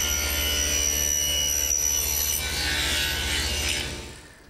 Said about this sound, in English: allows me to hold pieces in a vertical position safely so they can run them through the saw to make the cheek cut